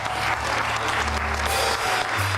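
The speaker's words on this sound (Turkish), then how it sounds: "Büyük bir alkışla buradalar." Loud applause from a television studio audience greeting arriving guests, dense and continuous over a low steady hum of music or room tone.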